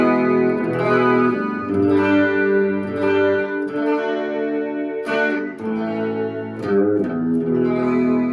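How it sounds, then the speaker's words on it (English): A Squier Classic Vibe Starcaster electric guitar on its bridge pickup rings out sustained chords in a bright clean tone, played alone and fairly loud with a slight shimmer. "So this is the bridge pickup."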